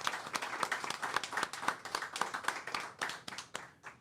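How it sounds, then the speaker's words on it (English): A small audience at Gilbert's Mexican Restaurant applauding, a scattered group of distinct hand claps with clear individual strikes, moderately loud at first and tapering off toward the end. "one big round of applause for our staff and this great food right here at Yeah. Gilbert's Mexican Restaurant"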